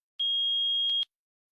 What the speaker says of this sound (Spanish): Si el multímetro marca 1 y emite un pitido,